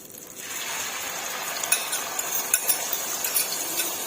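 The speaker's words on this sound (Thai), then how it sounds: "ใส่น้ำมันลงไปแล้วเอาไข่ลงไปเจียวค่ะ" A steady hot sizzle of egg frying in hot oil, with a few light clinks of a utensil against the pan.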